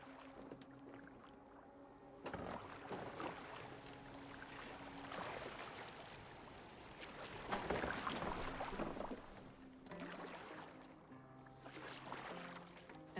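A boat moving across water in Assassin's Creed Valhalla, with continuous low sloshing and rushing water under a droning ambient game score, moderately quiet and steady throughout.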